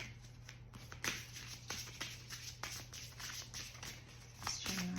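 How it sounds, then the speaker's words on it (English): Tarot cards riffle and slap softly in quick irregular bursts, close and quiet, with a faint low hum underneath. "let me shuffle one more time"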